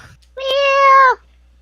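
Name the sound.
cat meowing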